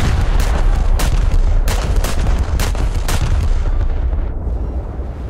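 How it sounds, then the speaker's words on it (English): Main guns of an Italian premium dreadnought battleship in War Thunder, a heavy continuous roar with a rapid series of sharp blast transients in quick succession, loud and close, fading slightly at the end. "Our shells are ready, so we get to fire again first"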